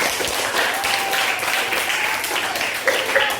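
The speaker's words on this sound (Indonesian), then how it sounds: "Oke, tepuk tangan." Pupils clap together in a classroom at SMPN 2 Tanjungpinang to applaud a classmate for a correct answer. The clapping is steady and fairly close for about three seconds, with faint voices underneath.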